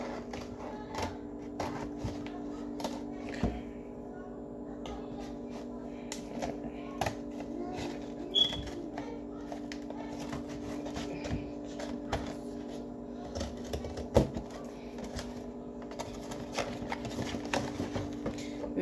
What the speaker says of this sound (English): Now I'm gonna cut the other circle out.